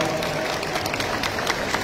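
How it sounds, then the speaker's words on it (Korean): Audience applause at a Democratic Party (더불어민주당) convention, a steady wash of many hands clapping throughout, fairly loud and dense with no single claps standing out. "당원을 위해 서주시는 임호선 당원께 다시 한번 큰 박수 부탁드리겠습니다"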